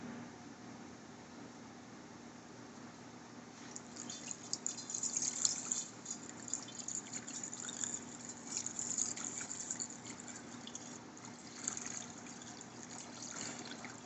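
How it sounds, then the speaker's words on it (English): Homemade mead is poured back into its original jug during racking, a continuous liquid trickle and gurgle that swells midway and holds steady, close and moderately quiet with no voices. "just pour it back into its original jug"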